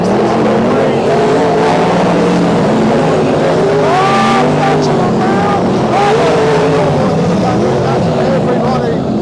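Sprintcars race through a heat at a New South Wales dirt track, loud engines roaring and whining as they sweep past, with a commentator talking over the din.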